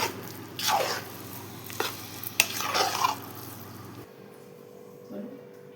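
Thick cooked dal for puran being stirred in a pan, with a few distinct scraping and squishing strokes over a low steady hum, then quieter after a pause.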